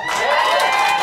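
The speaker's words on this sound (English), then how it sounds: "A round of applause." A comedy club audience bursts into loud, close applause mixed with cheering and shouts, a dense continuous roar with no talk.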